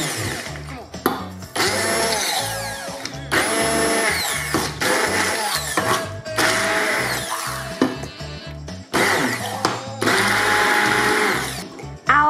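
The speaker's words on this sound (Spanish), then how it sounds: "Y ahora vamos a triturarlos con la batidora." A hand blender purées peeled, chopped figs for a quick fig jam, running loud in several long bursts with brief pauses between them, with no voices over it.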